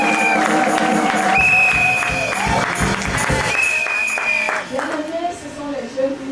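Congregation at a youth evangelism service applauding loudly, dense clapping and cheering blended with sustained tones and voices, fading and thinning toward the end.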